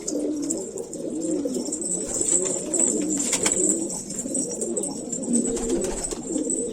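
A red pigeon of a mail breed coos steadily and close by through the whole stretch, low throaty rolling calls repeating with a faint high hiss behind.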